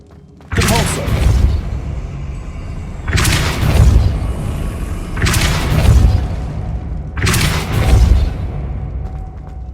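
A Depulso spell is cast four times in the Hogwarts Legacy video game, each a loud booming blast with a deep thud, evenly spaced about two seconds apart.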